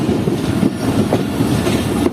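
Pakistani locomotive 5201 on shunting duty, heard as a loud, continuous rumble of rail wheels with clattering over the track nearby.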